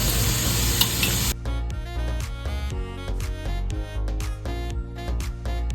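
Onion, tomato and ginger garlic paste fry in oil for a shrimp rice dish, a loud steady sizzle at first that turns into stirring and scraping with music playing throughout.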